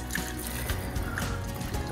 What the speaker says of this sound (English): I'm gonna pour this sauce over the dumplings.